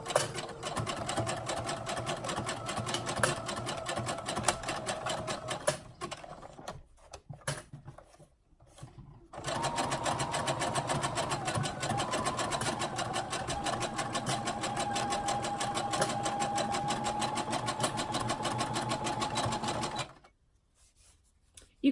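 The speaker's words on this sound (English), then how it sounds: "we'll go ahead and attach that with the zigzag stitch again" Sewing machine running a zigzag stitch, steady loud close rattling hum over long stretches, broken by a brief stop-start pause in the middle and falling silent near the end.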